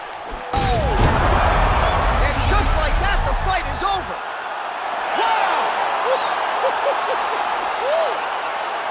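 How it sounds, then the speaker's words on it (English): Fight-ending knockout in the UFC 4 video game, with a loud game crowd cheering and roaring continuously, heavy impact thuds early on and a commentator's voice breaking through over the din. "Yeah, man, crowd loving it."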